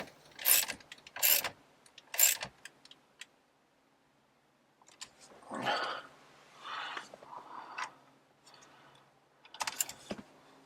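Small hex head screws come out of a Jeep Gladiator cubby panel, heard as sharp close clicks and metallic rattles of a tool and screws, then softer handling rustles after a quiet pause.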